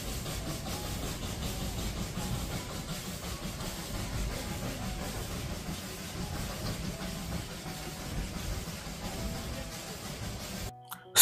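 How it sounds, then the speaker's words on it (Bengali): The Darjeeling toy train on its way to Ghum station gives a steady, continuous rumble of running gear and rolling wagons, with hiss and engine noise throughout, close and sustained until a brief break at the very end. "এখানে 15 মিনিট কাটানোর পর ট্রেন এগিয়ে চলল আমাদের যাত্রার শেষ গন্তব্য ঘুম স্টেশনে।"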